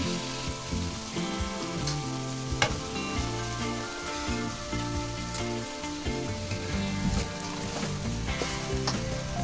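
Rice tossed and stir-fried in a hot pan for veg fried rice gives a steady sizzle with scraping stirs throughout, set against continuous background music and no talking.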